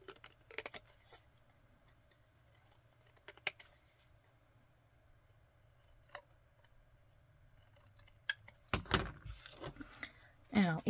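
Scissors snip through small scraps of paper for a shabby chic craft project, a few crisp cuts spread across the quiet stretch, then a burst of louder rustling and cutting near the end, close and alone.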